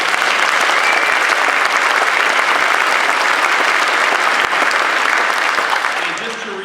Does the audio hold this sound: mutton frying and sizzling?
no